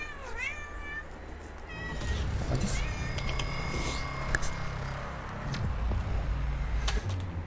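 A cat meows several times in rising, drawn-out calls near the start, then quieter mews follow over a steady low background rumble.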